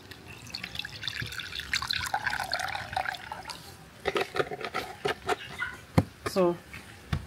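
Papaya (pawpaw) water being poured through a sieve, a steady close trickle and splashing of liquid with drips, while a person talks over it.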